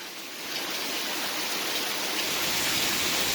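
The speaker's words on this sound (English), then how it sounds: "Now the camera's on the rain." Heavy rain pours down in a thunderstorm under a flash flood watch, a dense, steady hiss of falling water that swells slightly after the first half second and stays loud with no talking.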